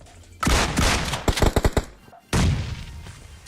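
Gunfire in a PUBG Mobile match, a loud burst of shots followed by a rapid string of sharp single cracks, a brief pause, then another heavy volley.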